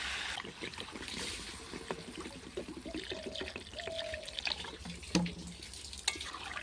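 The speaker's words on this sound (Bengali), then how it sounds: "ঝোল হবে তার জন্য একটু বেশি করে পানি দিলাম" Faint trickling and splashing of water being poured into a fish curry pot on a clay stove, with a few clinks of a pot or utensil.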